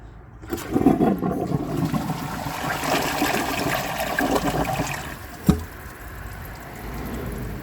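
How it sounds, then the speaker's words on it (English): Glacier Bay high-efficiency toilet flushing, a sustained watery rush with gurgling that swells early, holds steady, then tapers into a trickle, with a brief knock partway through. "So I'm just going to give it a second flush"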